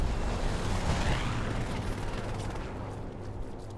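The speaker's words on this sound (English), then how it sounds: "the rockets flying in" Incoming rockets in a video game battle: a dense, continuous roar of blasts and rumbling impacts, loud and close, slowly easing off over a few seconds.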